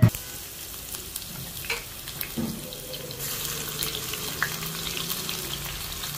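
Whole cardamom, cinnamon, cumin and cloves crackle in hot oil for prawn biryani, a soft sizzle punctuated by a few sharp pops and clatters, with a running-water-like hiss thickening toward the end and nobody speaking.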